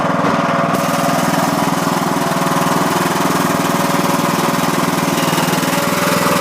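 Troy-Bilt Super Bronco lawn tractor engine, missing a deck spindle, running steadily at close range with a loud, even mechanical rumble and rapid firing pulses throughout.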